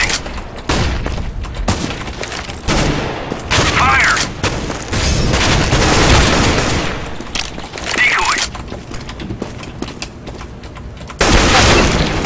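Rapid bursts of gunfire and booming blasts fill a CS:GO competitive match on the Office map, with a flashbang grenade thrown amid loud, dense, irregular shots and a couple of whistling sweeps.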